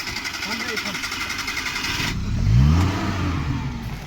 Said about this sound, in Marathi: चालला आमची गाडी.